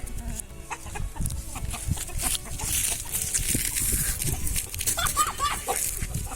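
Chickens clucking and squawking in a busy, close flock, with overlapping calls and scattered flutters continuing throughout amid outdoor background noise.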